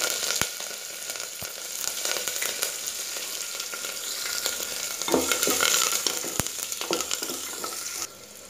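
Black pepper, green chili and curry leaves frying in a pan with oil, mustard seeds, cumin and urad dal for ven pongal, giving a steady close sizzle with a few sharp stirring knocks throughout.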